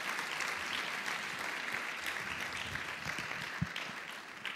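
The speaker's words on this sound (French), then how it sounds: "donc on peut l'applaudir" An audience at a panel discussion claps steadily throughout, a dense, even wash of applause at moderate loudness with no voices standing out.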